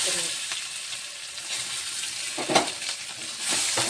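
Onions sizzling in hot oil with mustard seeds, cumin, curry leaves and coriander, a steady bright frying hiss with a few louder crackles and spatters near the end, close and without talk.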